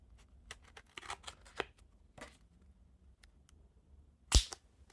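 A card opener slices through the seal on a Theory11 Blue Tycoon playing card box, giving a few soft, close scratchy strokes and small clicks, then one sharper snap near the end, all quiet with no talking.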